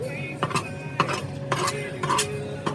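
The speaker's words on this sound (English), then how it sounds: "I'm going to give that another stirring up in there." Spoon stirring jambalaya in a metal Matador pan on a Recteq Bullseye Deluxe grill, with a series of close scraping clinks against the pan at a steady rhythm over a faint sizzle.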